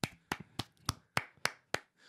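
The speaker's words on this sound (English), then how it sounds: "I'm gonna clap for some reason" Eight sharp, evenly spaced hand claps ring out close by at a steady moderate rhythm, with nothing else underneath.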